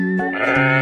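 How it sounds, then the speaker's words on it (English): A single sheep bleats loudly and close by, one sustained wavering call of under a second, alone with no talk. "One sheep."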